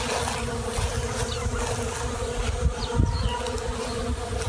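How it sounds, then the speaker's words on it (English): Honeybees swarm throughout a tree on a farm, a dense, steady drone of many wings with individual bees buzzing past close by, loud and continuous with no talking. "The whole tree is buzzing."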